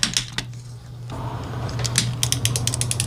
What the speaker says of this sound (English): Here we see those awesome ratchet joints clicking